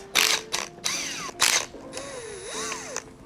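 Tool loosening the 10 mm bolts on a Nissan KA24DE engine's timing chain tensioner, several loud close bursts of mechanical whirring and rattling with pitch sweeps, broken by short pauses.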